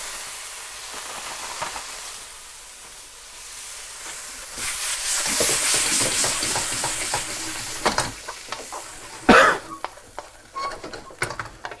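Base sauce for chicken dopiaza hits a hot pan and sizzles, the hiss swelling loudly, then settling into stirring scrapes and bubbling, with a sharp burst of sizzle near the end.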